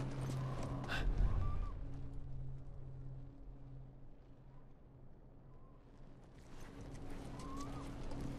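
Horse hooves in the video game The Last of Us, sounding as steady clip-clop under a continuous rumbling game ambience, with a few brief louder knocks and a faint breath-like whinny near the start.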